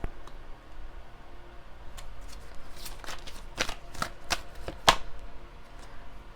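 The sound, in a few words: shuffling Enchanted Map Oracle cards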